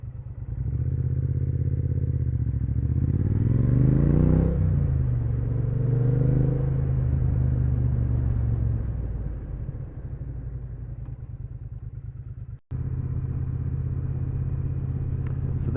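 A Triumph T120 motorcycle rides through a town centre near Norwich. The engine gives a close, continuous rumble that swells and shifts pitch as it pulls away, then settles to a steady, easy cruise with a brief drop near the end.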